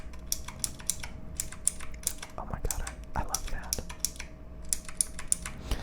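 Typing on a custom mechanical keyboard with linear switches: a steady run of quick key clacks close up, with a voice speaking over part of it.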